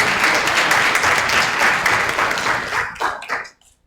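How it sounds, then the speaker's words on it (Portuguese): Audience at a scientific conference on human movement asymmetry breaks into a loud, dense round of applause for a colleague, steady for about three seconds before thinning into a few last claps and fading to silence. "Uma salva de palmas para a Inaê."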